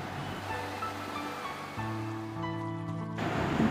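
Sea waves wash along the Konkan coast in a steady, close surf roar, joined by a low droning hum that stays throughout.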